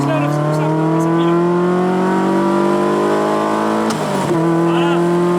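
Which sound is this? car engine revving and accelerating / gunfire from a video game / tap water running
car engine revving and accelerating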